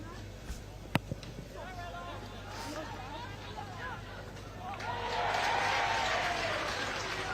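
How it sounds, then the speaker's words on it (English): A rugby crowd at a women's under-21 Scotland v England match breaks into applause, swelling in the latter half beneath a commentator's voice and a sharp knock near the start. "And the water carrier getting a round of applause there."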